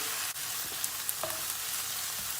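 Ground meat fries with water in a pan for a potato moussaka, a close, steady sizzle and crackle with small pops and the light scrape of stirring.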